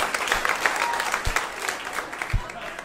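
Comedy club audience clapping in response to a stand-up comedian, a dense, steady patter of many hands lasting throughout, with scattered louder claps and crowd noise mixed in.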